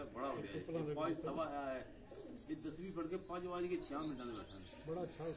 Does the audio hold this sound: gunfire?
no